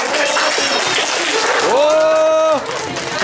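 Audience clapping at a Maslenitsa festival event, a dense wash of applause, loud and close, carrying on under an amplified voice that keeps speaking throughout.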